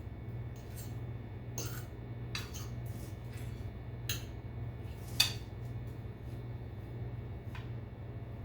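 Potato patty mixture being stirred with pepper, a utensil clicking and scraping against a bowl in scattered light taps over a steady low hum, with one sharper clink near the end.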